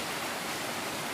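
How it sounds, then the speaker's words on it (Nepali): Falling water from a waterfall at an eco village in Nepal pours as a steady, loud, broadband roar, close and unbroken with no voices over it. "यहाँबाट तपाईहरुले देख्न सक्नुहुन्छ वाटरफल यसरी झर्छ है।"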